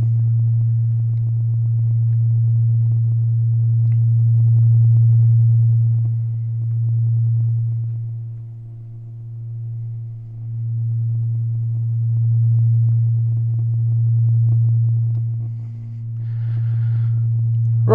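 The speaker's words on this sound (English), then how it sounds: "that's one subwoofer playing in a room, completely uneven" A single subwoofer plays a steady low-frequency test tone in a room, a loud continuous hum that swells and dips in level as the listening position moves, with no speech.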